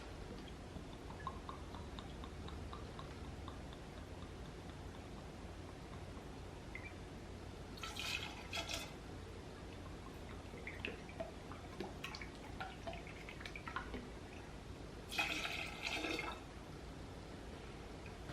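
Rum poured into a mojito pitcher, heard as two short, faint splashing bursts of liquid over a quiet room, with no talking.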